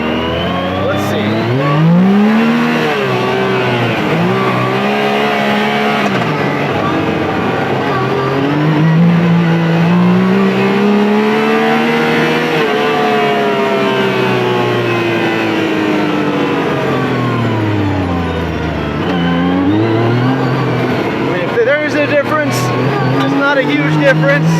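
A Yamaha YXZ side-by-side fitted with a free-flow air box mod revs up and down repeatedly, its engine note rising and falling loudly and close throughout, with people talking over it.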